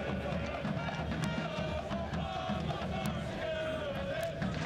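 A soccer stadium crowd at Orange County Great Park in Irvine makes a steady, distant murmur during a match, with occasional brief shouts rising over the broad background noise.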